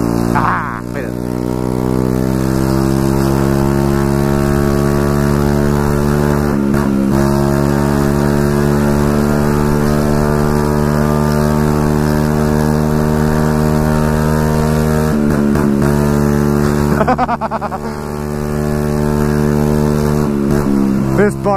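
A straight-piped moped engine roars extremely loud and close, a steady raw buzzing drone that holds for about twenty seconds with brief dips and surges as the throttle changes.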